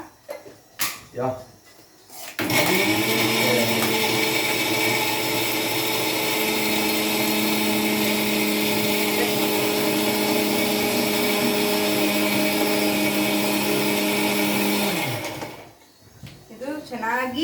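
Mixer grinder running steadily for about twelve seconds, grinding chili powder and small tomatoes into a fine paste for dhaba-style egg masala, a loud whirring motor drone, with brief talk before and after.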